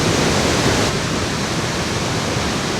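Li Phi waterfall on the Mekong River in southern Laos, a dense, continuous roar of falling water filling the whole clip at constant loudness with no breaks.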